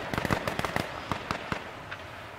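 Rapid bursts of gunfire in the video game H1Z1, a quick cluster of sharp shots followed by a few spaced single cracks, mid-distance over a low background.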